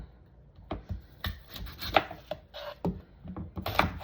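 Apples sliced on a fruit chopping board for apple cider vinegar give a series of close, sharp knife taps and cuts in an uneven rhythm, with a few louder knocks against the board.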